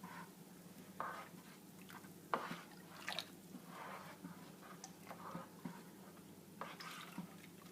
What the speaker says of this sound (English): Now I got to stir until it's dissolved.